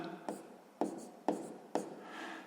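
Pencil or pen writing numbers on paper during a sixth-grade math exercise: four faint, close, evenly spaced scratching strokes, each fading quickly, with no speech over them.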